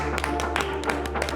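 Applause in a TV studio for Ivorian guest Ken Adamo: a short burst of irregular hand claps from a small audience over a steady low background hum.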